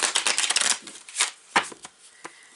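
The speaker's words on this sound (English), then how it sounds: "let's do a little more shuffling." Tarot deck being shuffled by hand, a dense burst of riffling card flutter tapering into a few scattered slaps and taps, close and fairly loud.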